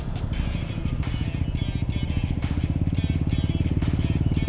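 A Suzuki Hayate motorcycle is ridden at a steady speed, its small engine giving a close, rapid, even putter that runs continuously, with brief whooshes of wind.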